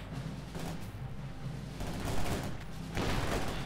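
A Maxim machine gun firing in the video game Company of Heroes 2, with bursts of distant-sounding battle gunfire and booms rising and falling amid a busy combat soundscape, with no talk.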